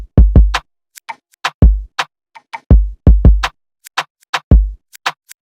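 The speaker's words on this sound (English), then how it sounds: "So I had this normal drum pattern that sounded like this" A plain trap-style drum pattern of booming kicks and sharp snares, played forward before any reversing, with crisp hi-hat ticks between; punchy, close and loud, repeating in a steady rhythm with no voices.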